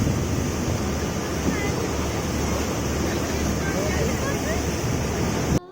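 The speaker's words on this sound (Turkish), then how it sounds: "Vapurun arkasında durup motorun çıkardığı dalgaları izlemek çok hoşuma gidiyor." A passenger ferry's engine rumbles low beneath the continuous wash and churn of wake waves at the stern, a steady broadband roar of water and wind close to the microphone.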